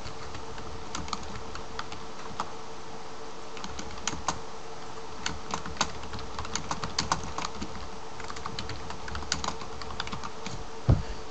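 A computer keyboard clicks in scattered, light keystrokes over a steady low hum, typing a name with irregular pauses and no voices.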